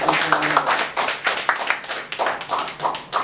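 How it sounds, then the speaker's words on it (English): Applause from a conference audience, a steady patter of many hands clapping that swells and dips slightly without pause, with no voices over it. "Let's give him a round of applause."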